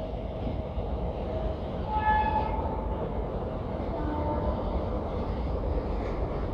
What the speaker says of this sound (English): Sound of train can be heard every now and then.